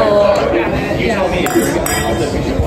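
Wine glasses clink in a toast between tasting rounds, a few bright chinks over steady close chatter from people nearby.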